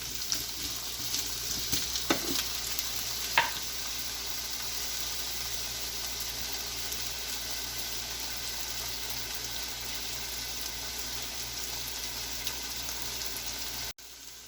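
Potato pieces sizzle and fry steadily in a pan of menudo, a close, even crackle with a few sharp clinks of a utensil near the start, then a sudden drop in level just before the end.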